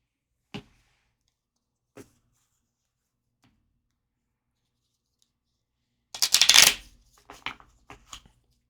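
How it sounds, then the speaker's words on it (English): A small Calabrese-style deck of cards is shuffled close by in a quiet room, a short burst of riffling and flicking after a couple of isolated taps. "These are so hard to shuffle."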